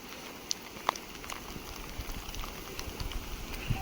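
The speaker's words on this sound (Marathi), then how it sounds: "आता फोन ठेवतो कारण पाऊस सारखाच कंटिन्यू येतोय" Monsoon rain falls at a Sahyadri hill fort temple at Rajmachi, a faint, steady patter with a few louder drops, and no voices.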